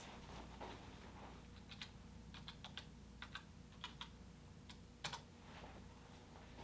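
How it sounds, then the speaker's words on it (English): Calculator keys are tapped in a quick, irregular series of faint plastic clicks against a quiet room background. "If I have my calculator, I just type it in."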